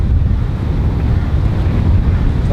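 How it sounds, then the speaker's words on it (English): Strong crosshead wind at a golf practice tee buffets the microphone in a steady, loud rumbling roar with no talking. "It's very windy here today. And it's a crosshead, the toughest wind of all."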